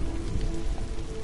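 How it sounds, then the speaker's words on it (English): Rain pours down in the video game The Last of Us, a dense, even hiss of falling drops with no voices over it. "The rains are coming down."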